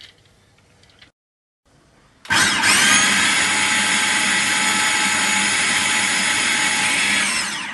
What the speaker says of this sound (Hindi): अब मैं इसको ग्राइंड कर रही हूँ